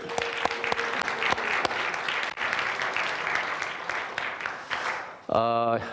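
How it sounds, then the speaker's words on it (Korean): A church youth congregation claps together in dense, steady applause that fills the room, while a voice talks over it throughout; the clapping breaks off near the end and a sustained musical tone takes over. "우리 박수 한번 합시다."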